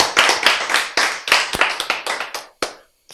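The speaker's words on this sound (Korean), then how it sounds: "박수." An audience at a Bible lecture gives a quick run of hand claps with irregular timing, moderately loud, tapering off into silence near the end.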